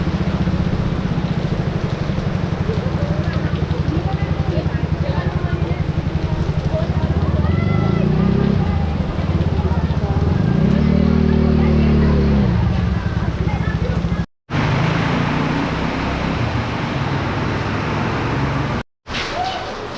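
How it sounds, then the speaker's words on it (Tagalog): Heavy rain pouring down during a wet, windy spell at a market in the Philippines, a loud constant hiss mixed with engine rumble and passing vehicles nearby, with brief dropouts near the end. "Yan, lumakas na ang ulan."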